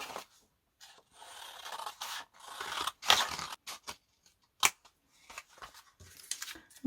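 Scissors snip through paper scraps for an art journal in a studio, with a quick run of close, crisp cuts and short rustles, then scattered single snips after brief pauses.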